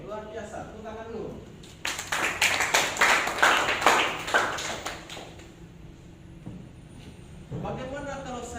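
An audience of students claps hands in a lively, rhythmic burst lasting a few seconds, with talking just before and after it.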